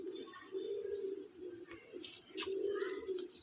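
A Punjabi Malwai pigeon coos softly in repeated low, rolling phrases while being shown for sale. Faint background noises and brief chirps are audible, and no voices are heard.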